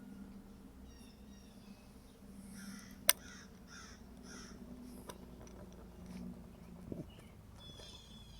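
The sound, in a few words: birds calling outdoors in the morning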